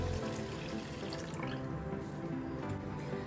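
Water streams steadily into a bowl of rice for soaking, with a continuous splashing gurgle, close by and fairly quiet, with no voices.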